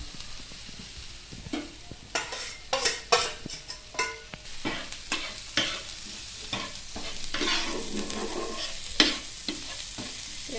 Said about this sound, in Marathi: हे आता इथं भाजत आहे बघा तर मी इथं कांदा आणि टोमॅटो दोन्ही टाकलंय